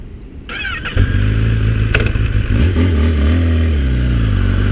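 Kawasaki ZX10R motorcycle with its original exhaust starts up and revs nearby, rising from a whirring crank into a loud, throaty engine note with throttle blips.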